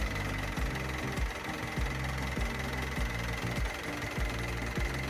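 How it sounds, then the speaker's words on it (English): A boat engine runs after a new belt has been installed, pumping water through its exhaust, with a steady rhythmic idle, regular knocking pulses at about two per second over a broad hiss, close and continuous. "The new belt is installed. She's running just fine."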